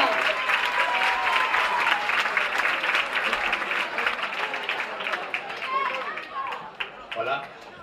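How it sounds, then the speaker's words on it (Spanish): Loud applause from a festival crowd in Antequera, dense clapping that gradually thins and fades toward the end, with some voices mixed in. "Fuerte aplauso para Miguel y al resto de la selección murciana."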